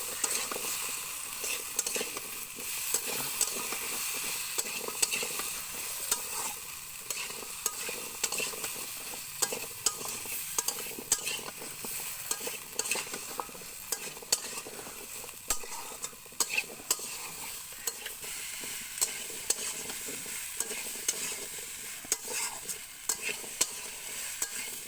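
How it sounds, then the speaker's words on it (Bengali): Cubed pumpkin and potato stir-frying with spices in a hot pan, a steady broadband sizzle with constant scraping and stirring clicks, close and loud, no voices. "এরপর দিয়ে দেবো কেটে রাখা কুমড়ো আর আলু দিয়ে একসাথে ভালোভাবে কষিয়ে নিতে হবে"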